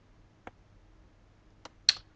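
A computer mouse clicking while files are copied and pasted, three sharp separate clicks spaced over a couple of seconds against near silence.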